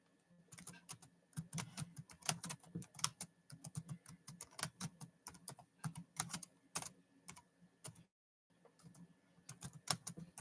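Rapid, close computer keyboard typing in quick bursts of clicking keystrokes, with a short pause partway through before the clatter resumes.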